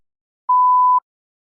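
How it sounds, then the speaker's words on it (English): A single steady electronic beep from a TOEFL speaking practice test, clean and mid-pitched, lasting about half a second between stretches of silence. "You may begin to prepare your response after the beep."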